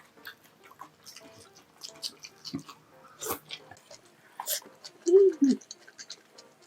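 Crunchy kimchi chewed during a meal of kimchi jjim, with crisp, wet crunching bites scattered through the stretch and a louder burst near the end; brief talk and soft background noise are mixed in.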